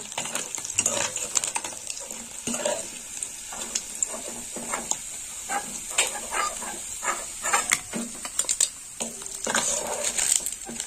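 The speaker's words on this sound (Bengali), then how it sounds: "দুটো পিস লাল লাল করে ভেজে নেবো।" Small puti fish frying in oil in a kadai, a steady close sizzle broken by repeated scraping and stirring clinks of a metal spatula against the pan, with no talking.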